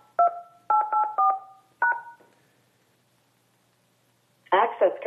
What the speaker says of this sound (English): I don't know what you're dialing.